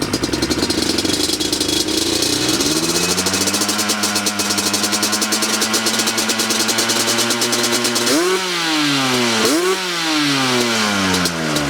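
A 2003 Yamaha Banshee two-stroke engine with FMF pipes idles with a crisp, steady burble, then builds and snaps into loud full-throttle revs that rise and fall in pitch several times, close and alone.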